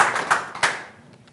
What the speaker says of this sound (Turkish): alkışlıyoruz. Bravo.